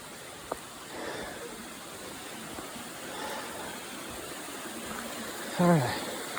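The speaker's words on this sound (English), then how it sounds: "I want to show y'all this teeny tiny little waterfall." A tiny waterfall on a hiking trail, a steady close rush and trickle of falling water, with a brief voice near the end.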